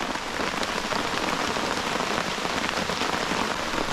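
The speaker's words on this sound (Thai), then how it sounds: "ฝนมาหนักเลยนะครับ" Heavy rain pours down in a mountain rainforest, a loud, dense and unbroken hiss of drops that drowns out everything else, with no voices.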